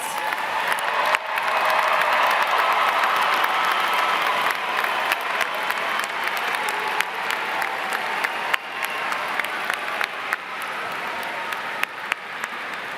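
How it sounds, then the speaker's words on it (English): Sustained applause and scattered cheers fill a large commencement ceremony hall as the audience honors graduates, a dense even patter of clapping that tapers slightly toward the end. "let's have one more huge round of applause for all of our graduates"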